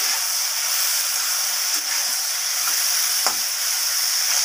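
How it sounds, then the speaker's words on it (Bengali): Okra frying in a pan with turmeric powder, giving a steady, close sizzling hiss throughout with faint stirring clicks and no talking. "এরপর সব কিছু একসাথে মিশিয়ে ভালোভাবে আমি ঢ্যাঁড়সগুলোকে লাল লাল করে ভেজে নেব"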